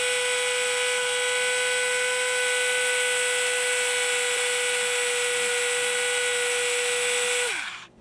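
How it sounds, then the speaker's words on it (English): A handheld electric drill from a Tamiya Mini 4WD kit whines at a steady high pitch while boring into a carbon plate, running continuously for several seconds before spinning down and cutting off. "So let's see if we can continue and drill holes."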